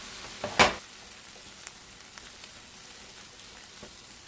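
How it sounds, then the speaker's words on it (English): Pepper mixture sautéing in a pan for Ghana egg fried rice, a faint steady sizzle with one sharp clatter near the start and a few soft ticks after, no voices. "We saute this part too with some of the pepper mixture and then salt"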